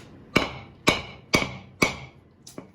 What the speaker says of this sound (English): So I'm gonna grab my hammer